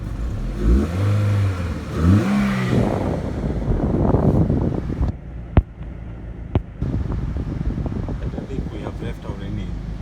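A Honda Civic Si engine revs hard early on with rising harmonic sweeps, then settles to a rough idle with a couple of sharp clicks, close-miked and under wind noise and some talk.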